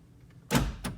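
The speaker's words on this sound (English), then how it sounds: "The door lock switch, that's lock," Power door locks on a 2003 Jeep TJ actuate with two quick, close mechanical clunks, the first louder, in a quiet cabin.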